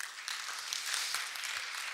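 An audience applauds a speaker's presentation at a quantum technology conference session, a steady wash of clapping heard at a moderate distance with no voices over it.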